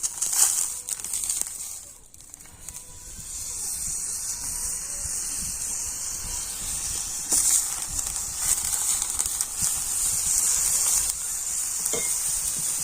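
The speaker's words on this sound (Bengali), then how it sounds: "সর্ষের তেলটা আমি এই ফ্রাই প্যানের চারিধারে খুব ভালো করে ছড়িয়ে দেব আর এবার আমি দুটো বেগুন ফ্রাই প্যানের মধ্যে বসিয়ে দেবো" Two whole eggplants fry in mustard oil in a frying pan, giving a steady close sizzle with faint crackles. The sizzle dips briefly early on, then holds even, with occasional soft scraping clicks and no speech.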